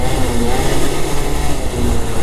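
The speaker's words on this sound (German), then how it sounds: "Jetzt kommen wir auch immer richtig auf Drehzahl hier." Motorcycle engine revving hard at high rpm, a loud, steady roar with wind rush as the bike holds speed, no talking.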